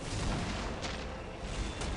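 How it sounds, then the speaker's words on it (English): Artillery fire in the Dawn of War Dark Crusade Warhammer 40k game, a dense, continuous rumble of booms and blasts filling the whole stretch, loud and without pause, with no speech. "Artillery, open fire!"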